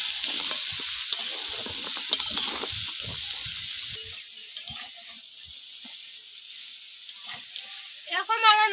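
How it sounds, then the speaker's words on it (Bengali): Fried prawn legs stirred into okra in a hot pan, a loud sizzling hiss with scraping stir strokes that eases after a few seconds and fades toward the end. "এবার ভেজে রাখা চিংড়ি মাছের ঠ্যাংগুলো দিয়ে দেবো।"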